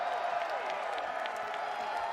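A live esports event crowd roars with steady applause and cheering, a dense continuous wash of noise filling the hall throughout.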